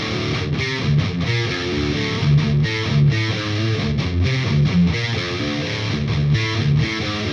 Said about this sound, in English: Arpeggio on the distortion with some palm muting is a cool trick and somewhat underused in metal.